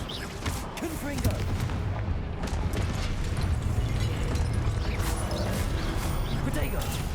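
Confringo fire spells cast in Hogwarts Legacy combat give repeated booming blasts in a dense, loud battle mix, with voices calling out over the noise throughout.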